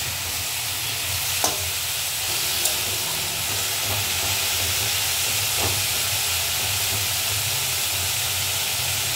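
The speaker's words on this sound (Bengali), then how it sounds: "এইভাবে আমি শাকটা ভেজে নেব।" Red amaranth greens fry in a pan with a loud, continuous sizzle and steady steam hiss, broken by a few faint clicks of stirring, heard alone without talking.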